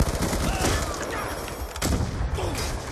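Rapid gunfire in a multiplayer match of the shooter game Call of Duty Black Ops 2, dense overlapping automatic shots close by, with a brief louder burst partway through and faint voices underneath.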